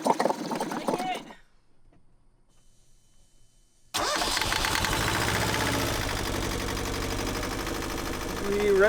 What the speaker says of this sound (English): We ran some fresh water through our inboard engine